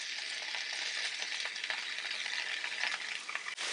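Onions and mint leaves for chicken pulao fry in a pan, giving a steady bright sizzle with crackling pops and a brief clink near the end, close and alone.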